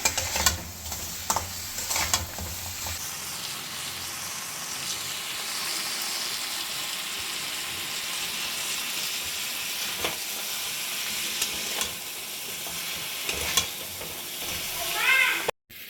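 Spice masala for sea crab stirred over a high gas flame, a continuous loud sizzle with scattered scraping knocks of the spoon, steady and close throughout.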